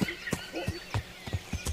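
Horse in Kingdom Come: Deliverance, a medieval game, gives a short whinny while several sharp hoof clops strike in a loose, uneven rhythm close by.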